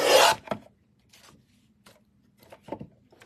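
A paper trimmer slices a sheet of white paper in one quick, loud rasping stroke at the start, followed by faint scrapes and light handling sounds in a quiet room.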